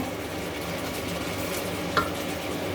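Onion stirred and frying in a pan for a stir-fry of sweet peppers with chicken giblets, a steady close sizzle with light stirring scrapes and one brief clink near the end, no talking.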